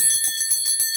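An Indian metal bell rings with a bright, sustained high tone, its shimmering overtones ringing on steadily and close with faint pulsing through the tail, no voice over it.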